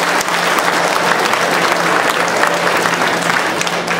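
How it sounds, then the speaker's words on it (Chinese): A banquet crowd gathered to commemorate the 70th anniversary of the war of resistance gives itself warm applause, a loud, dense and steady roar of many hands clapping together that fills the room without a pause. "我请各位给你们自己热烈的掌声"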